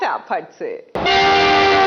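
A train horn sound effect cuts in abruptly after a man's brief speech and blares as a loud, steady, sustained tone.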